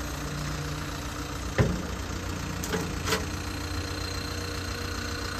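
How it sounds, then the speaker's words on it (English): A 2005 Caterpillar 277B track loader's engine idling steadily nearby, a constant low drone with a few brief knocks and clunks. "Motor sounds very good."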